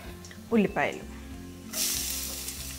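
Chopped garlic and onions hitting hot oil, a sudden loud hiss that follows a short stretch of speech and holds steady, close by.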